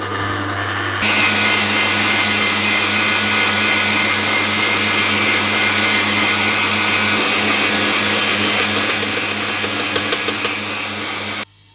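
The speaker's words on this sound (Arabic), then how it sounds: "غادي نخدم العجانه ونخليه البيض ديالي يطلع" Electric stand mixer whipping eggs with salt and sugar, giving a loud continuous motor whine with a steady hum that starts abruptly after a moment and cuts off at the end, with no talk.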